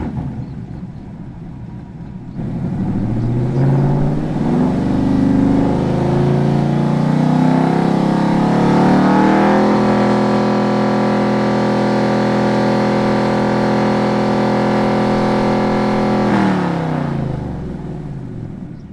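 Cammed pickup truck engine, Global A platform with cylinder deactivation deleted, revving during a crank relearn: idle rises into a long held high-rpm roar with choppy cam pulse, then drops back to idle, loud and close with no voices.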